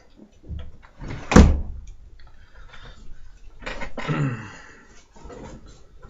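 A window being shut indoors, giving one sharp knock of a thud near the start, with faint shuffling, soft thumps and some movement noise after it, all close by and with no voices.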